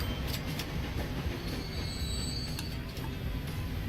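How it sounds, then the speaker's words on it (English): An orange train runs along the tracks in the Transport Fever US campaign set around 1920, a steady rolling rumble with occasional squeals and clicks and no talk over it. "Alright, so there's the orange train."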